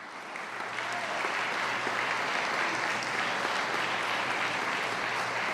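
Sustained applause filling a chamber during the opening session of the Colombian Congress, a thick, even roar of many hands that swells in over the first second and holds steady.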